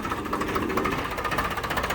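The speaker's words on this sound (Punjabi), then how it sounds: "ਇਹ ਕਿਹੜਾ ਮਾਡਲ ਹੈ ਇਹ ਭਾਈ ਫਾਰਮ ਟਰੈਕ 60 ਸੁਪਰ ਮੈਕਸ ਆਇਆ ਵਾ" A Farmtrac 60 Super Max tractor engine running close by, a loud, steady, rapid diesel chug with a throbbing knock, with no talk.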